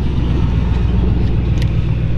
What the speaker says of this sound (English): Somebody going by with a loud Crown Vic